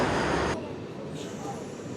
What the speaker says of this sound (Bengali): এই ট্রেনটাই হচ্ছে বর্ধমান থেকে রামপুরহাট যাওয়ার বা এই গুসকরা আসার এই লাইনের প্রথম ট্রেন